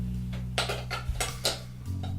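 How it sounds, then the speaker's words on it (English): A spoon scrapes and taps around a bowl of melted chocolate and butter, several distinct clinks and scrapes close up over a low steady hum. "Just going to give that a stir."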